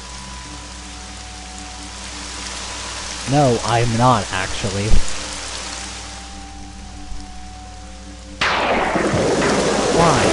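Steady rain falls in the background of a horror-themed game session, a constant hiss that swells louder near the end, while a person briefly speaks over it.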